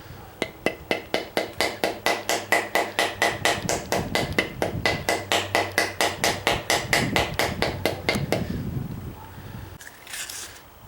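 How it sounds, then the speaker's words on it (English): A steel wedge is hammered into the handle of a vintage Collins splitting axe in a rapid, steady series of about forty sharp, ringing strikes, close and loud, ending in a brief scrape. "I'm going to see if I can get this wedge a little deeper."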